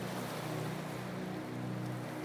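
Soft sea waves wash in a steady, unbroken rush of surf, calm and even throughout with a faint low hum underneath and no voices.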